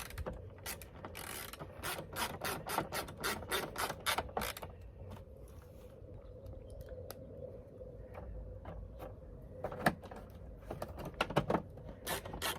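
Screws being driven into a plastic marker light housing on a 2016-2018 GM tow mirror, heard as a dense run of close, sharp clicking and ratcheting bursts, pausing midway before a final flurry of clicks.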